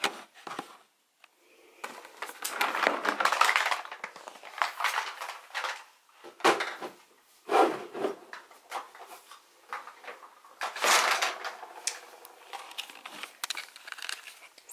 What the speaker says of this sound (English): it's time to put this into the Alex drawer